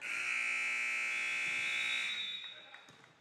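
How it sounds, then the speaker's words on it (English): A long, loud electronic buzzer ends the second period of a high school wheelchair basketball game, blaring for about two seconds, then cutting out, leaving arena crowd noise and faint voices. "here goes the buzzer"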